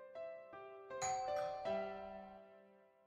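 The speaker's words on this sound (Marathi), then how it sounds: "बेल" A doorbell chimes indoors in a short, clear melody of several ringing notes that overlap and slowly fade, with no voices.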